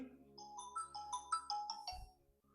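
A phone ringtone plays a quick rising-and-falling melody of bright chiming notes, fairly quiet, ending with a soft thump.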